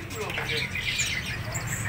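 An oriental magpie-robin sings in a busy bird shop, its bright whistled phrases rising over a dense chorus of other caged birds chirping close by, with steady low shop noise underneath.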